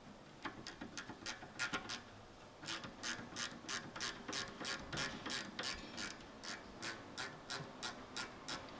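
Hand ratchet turning a brake caliper bolt on a 2019 Lexus RX350, heard as a steady run of close, crisp clicks in short strokes, fairly quiet with no talking.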